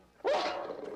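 Mean Doberman gives a single loud, close bark, sharp at onset and trailing off into a rough, growly tail in an otherwise quiet setting.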